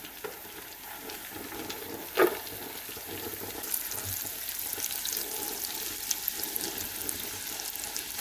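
Onion frying in butter with a little oil in a pan for leek soup, a steady soft sizzle running throughout with a brief clatter near the start.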